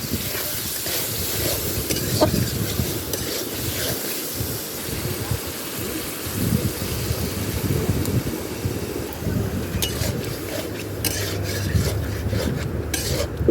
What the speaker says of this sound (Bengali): এই চিংড়ি মাছগুলো আমি সম্পূর্ণ ভুনা ভুনা করবো